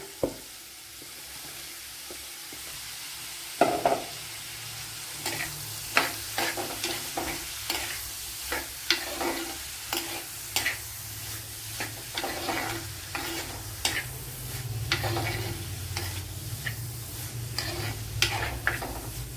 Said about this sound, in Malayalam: അതും കൂടെ ഒന്ന് വഴട്ട് അത് കഴിഞ്ഞ് ഇനി പടവലങ്ങ ഇട്ട് കൊടുക്കാം